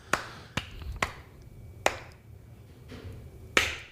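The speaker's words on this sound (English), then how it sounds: "Slow clap." A few slow, deliberate claps, spaced about half a second to a second apart, sharp and close against a quiet room.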